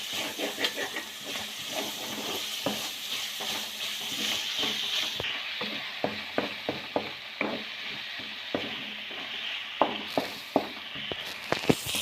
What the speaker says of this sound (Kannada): ಗರಂ ಮಸಾಲ, ಇದೆಲ್ಲ ಹಸಿ ಸ್ಮೆಲ್ ಹೋಗೋವರೆಗೂ ನೀಟಾಗಿ ಹುರ್ಕೊಳ್ಳಿ